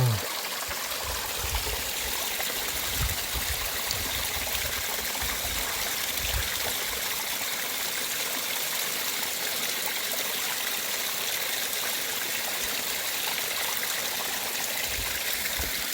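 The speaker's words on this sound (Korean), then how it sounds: "계곡물." Steady rush of a mountain stream flowing over rocks below a small waterfall, continuous and fairly loud, with no voices.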